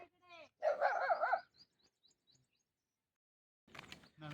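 A dog whines and barks in a few short bursts nearby during an early-morning roadside stop, with faint bird chirps, a stretch of near silence, and a later rustle.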